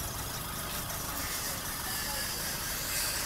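A 2007 Kia Morning idles smoothly, giving a steady, even engine hum with no knocking, close by and constant throughout.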